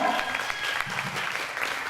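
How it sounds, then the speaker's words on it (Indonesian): An indoor audience gives warm applause for a person called to the front at the Bina Mandiri 2015 gathering, with steady, close clapping throughout the short burst. "Kita beri tepuk tangan yang paling meriah buat Mas Teja."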